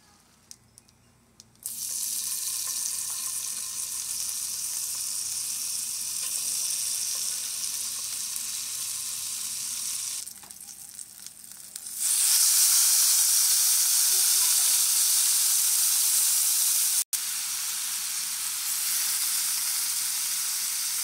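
Steak and shrimp for fajitas sizzle loudly and steadily in a hot pan. The hiss dips briefly partway through, then comes back even stronger and brighter for the rest of the clip.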